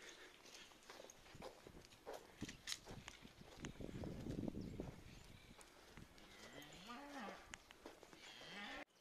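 A cow moos in a rural hunting area, a drawn-out low call rising and falling near the end, heard at moderate distance over footsteps, rustling and outdoor background noise.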